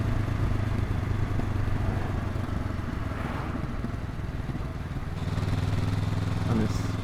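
Onboard riding sound from a Honda NX500 motorcycle on a test ride: a steady engine drone with wind rush, easing slightly midway before the engine note returns, with no voice heard over it.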